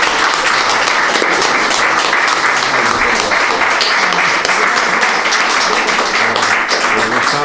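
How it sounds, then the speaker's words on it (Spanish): A lecture audience claps loudly and continuously for the speaker Gustavo, a dense, even roar of applause lasting throughout. "darle un fuerte aplauso a Gustavo"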